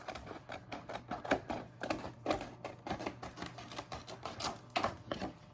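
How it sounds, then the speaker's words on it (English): A laminator runs with pages feeding through it, a constant low motor hum under a fast, regular train of clicking and ticking from the rollers. "while that's going through the laminator"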